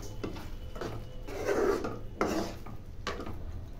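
Raisins being stirred into a tomato and carrot chutney in a pan, heard as a few soft scraping, rasping strokes of a spoon against the pan, fairly quiet and close, with no talking.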